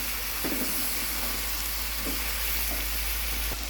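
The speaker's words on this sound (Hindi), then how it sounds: "आज के अंदर हमने डाला ज़ीरा और ये सूखे धनिया का पाउडर और ये नमक मसालों को हमने सीधा भून लिया है।" Cumin, dry coriander powder and salt roasting in a pan for Sialkoti green chilli mutton karahi give a constant close hiss and sizzle, broken by a few soft stirring scrapes.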